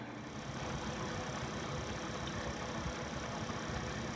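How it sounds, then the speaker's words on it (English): A swapped-in motor spinning near 440 RPM on a rubber grommet mount hums steadily and continuously at close range, with no change in level. "We have the motor there. We're running close to 440 RPM."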